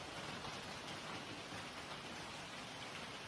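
Heavy rain pours steadily during a severe storm in Guangdong, China, a dense, even hiss of falling water with no pauses and no voices.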